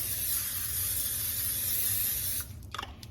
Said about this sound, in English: we're gonna start by spraying our pan with the olive oil spray